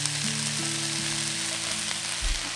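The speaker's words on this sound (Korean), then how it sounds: "양파가 살짝 투명해지면 버섯을 모두 넣어주세요." Mushrooms, onion and garlic stir-fry in a pan, a steady close sizzle with faint scraping as the food is moved, with no talking.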